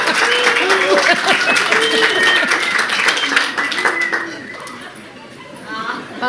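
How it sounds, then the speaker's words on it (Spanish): A stadium or hall crowd applauding and whistling after a poem is read, loud steady clapping mixed with shrill whistles and crowd chatter, easing off toward the end. "La mitad del público aplaude y la otra mitad chifla."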